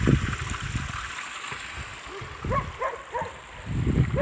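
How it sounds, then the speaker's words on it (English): Spring water runs along Glinka street in a steady, gurgling trickle that fills the background, with brief rougher splashy bursts close by. "You can see the spring waters."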